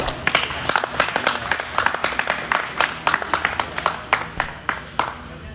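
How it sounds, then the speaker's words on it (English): An audience at a Jersey cattle show claps through the Grand Champion parade, steady dense applause with sharp individual claps standing out, sustained throughout. "Give them a nice round of applause."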